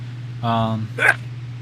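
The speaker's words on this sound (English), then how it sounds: "I think that was a sneeze." A single short sneeze: a brief voiced intake followed by a sharp burst, close and alone over a steady low hum.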